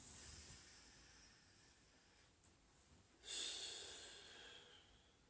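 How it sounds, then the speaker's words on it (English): Soft, close breaths during a yoga session: a faint exhale fades out, then after a short pause a louder, airy inhale rushes in and slowly tapers. "Let's do 2 more deep breaths."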